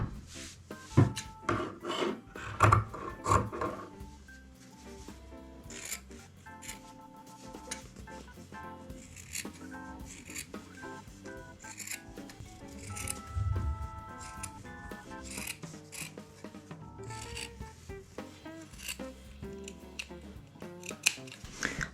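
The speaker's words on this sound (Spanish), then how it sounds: "Ahora lo que nos toca hacer es recortar la muselina" Scissors snip steadily through white muslin fabric while a cloth sanitary pad is trimmed, giving close, repeated crisp cuts with light rubbing of cloth between them and no talk.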